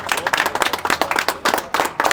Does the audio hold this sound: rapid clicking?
no